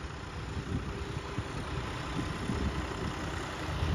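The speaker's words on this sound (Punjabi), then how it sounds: "ਚੁੱਕਦੇ ਹੀ ਆਉਂਦੇ ਬਾਈ ਦੋਹੇ ਟਰੈਕਟਰ" A low, steady tractor engine rumble idles continuously, with no change in pitch and no voices.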